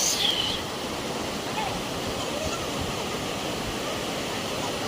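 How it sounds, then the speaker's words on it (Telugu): Devkund waterfall in Maharashtra pours in a strong, dangerous flow, producing a loud, continuous broadband roar that stays steady throughout, with a brief high whistle at the very start. "ఏమన్నా వాటర్ ఫాల్స్ డేంజర్గా ఉంది"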